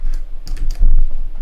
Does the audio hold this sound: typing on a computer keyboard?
yes